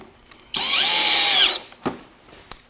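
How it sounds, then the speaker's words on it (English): Power drill driving pocket screws into wood, one sharp, rising whine of about a second followed by a couple of short clicks and knocks. "these pocket screws into the holes"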